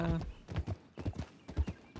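A skittish horse in a western role-play video game walks with clip-clopping hooves in an uneven rhythm and gives a brief whinny, heard close and fairly soft.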